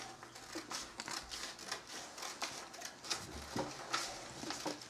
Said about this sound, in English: this is where I'm going to grab my scissors. I'm going to start to do my cuts.